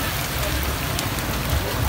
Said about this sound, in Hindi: बारिश चेक करो भाई लोग